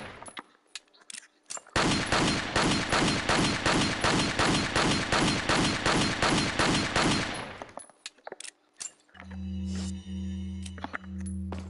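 A long rapid string of about twenty loud gunshots is fired into a wall in Resident Evil 4, in a steady rhythm, with scattered clicks before and after and a low droning tone at the end.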